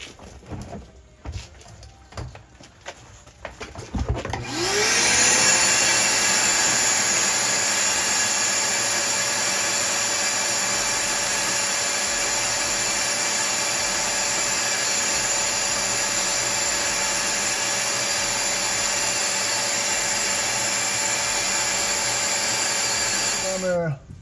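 A shop vac clears debris from the engine bay of a Land Rover Freelander with a KV6 engine, starting after some short handling sounds and then running as a loud, steady whine and whoosh until it shuts off at the end.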